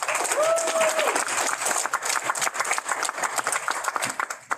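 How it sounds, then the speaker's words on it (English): A crowd applauds at a proclamation signing for Guam School Counseling Week, with brisk, uneven clapping that thins toward the end and a voice or brief whistle rising over it early on. "let's give a big round of applause"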